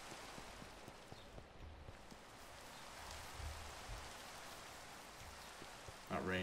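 Rain falls steadily in the Minecraft video game, a soft even patter that runs the whole time, with a brief louder crackle near the end.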